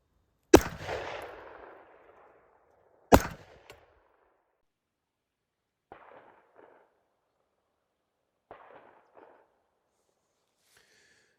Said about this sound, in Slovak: Toto je streľba bez tomiča.